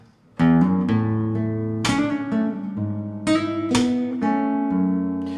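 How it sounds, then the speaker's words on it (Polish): Solo acoustic guitar plays a song intro, with pull-offs to open strings: plucked notes and chords ringing clearly, close and alone, in a steady unhurried rhythm. "Z czaknięciami brzmi tak."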